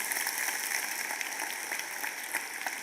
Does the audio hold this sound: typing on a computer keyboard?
no